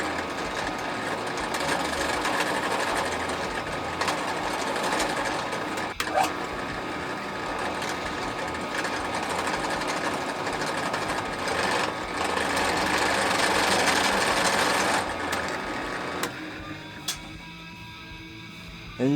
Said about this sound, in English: And you just countersink them as low as you want.